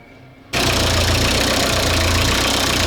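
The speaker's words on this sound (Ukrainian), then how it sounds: "Працює. Все нормально, вже все стоїть, антифриз залитий, прогріває." A replacement engine in a Volkswagen T3 bursts into life and runs steadily, a loud, close, continuous rough idle with a low throbbing rumble and no talk.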